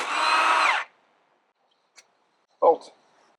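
A power tool whirs loudly for under a second while removing a hub bearing bolt on a 2006 Volvo S60 T5, followed by silence, a tiny tick and a short metallic clunk.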